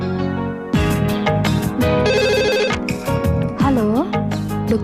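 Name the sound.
telephone ringing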